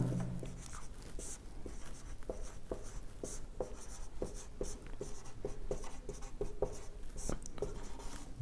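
Chalk tapping and scraping on a classroom board during a genetics lesson, short rhythmic strokes repeating steadily up close, with no talk over them.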